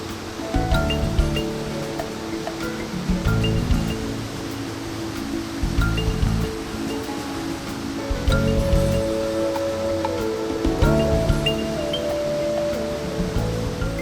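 A waterfall near Mawkhan village gives a broad, steady rush of water that stays continuous and fairly loud, with a few faint tonal sounds drifting over it.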